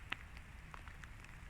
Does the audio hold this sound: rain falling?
yes